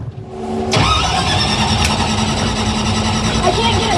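The engine of an AMC Javelin hot rod cranks and catches, then settles into a loud, rough running rumble nearby, with people talking over it.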